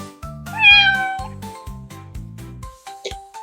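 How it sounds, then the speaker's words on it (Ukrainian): A cat meows repeatedly in a children's animal-sounds piece. Clear, close meows are joined by light chiming, musical tones. "Це кіт."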